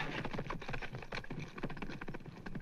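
Horse hooves clip-clop at a quick, irregular pace in a Western setting, with fairly close, faint knocks under a busy background.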